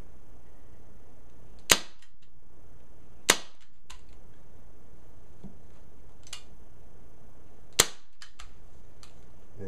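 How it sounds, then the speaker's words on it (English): Staple gun firing staples through upholstery fabric into an auditorium chair, three or four sharp, loud snapping shots spaced a few seconds apart, close up, with faint handling noise between. "put in a staple and keep it tight."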